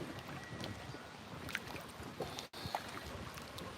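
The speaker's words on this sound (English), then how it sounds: "How the wind's a little rough." Wind blows steadily across a lake, a rough, gusty rumble close to the microphone with small scattered knocks and splashes, and no voices.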